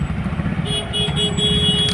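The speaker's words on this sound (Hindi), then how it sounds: "सही बात है, हर जगह ट्रैफिक ट्रैफिक ट्रैफिक" Festival-season road traffic jam, dense engine rumble from cars and motorbikes close by with a couple of short horn toots, under faint talk.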